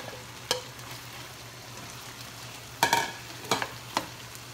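Pork and beef giniling in a pan, with a faint steady sizzle underneath and a few sharp scraping, clattering strokes as potato is added and stirred in.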